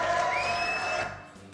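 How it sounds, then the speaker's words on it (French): A French TV studio audience applauds and cheers, a dense wash of clapping with a whooping tone rising over it, fading out near the end. "applaudissements pour la divine Roxy."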